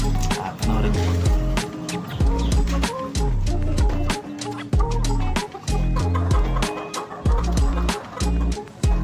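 Newly hatched chicks peep in a dense, loud, continuous chorus of short chirps close by.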